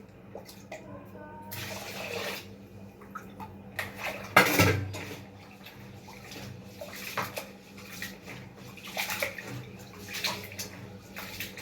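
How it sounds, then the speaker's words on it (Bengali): Rice is washed by hand in water inside a pot, giving repeated sloshing swishes and splashes, with one loud pour near the middle and lighter stirring and clinks after. "চালটা ধুয়ে দিই"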